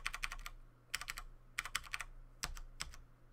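Quick bursts of keystrokes on a computer keyboard, close and fairly quiet, in short clusters separated by brief pauses over a faint steady hum.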